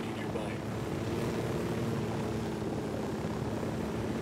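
Helicopter in Ghost Recon Wildlands, a steady loud rotor and engine drone, with voices talking over it.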